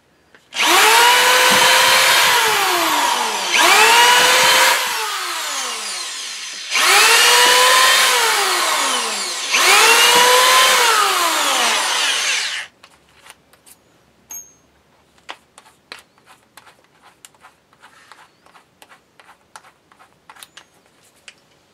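A power drill drives screws into a homemade wooden paper towel holder on a garage workbench: four loud sustained whirring bursts with falling pitch, each a few seconds long, followed by quiet scattered clicks and taps.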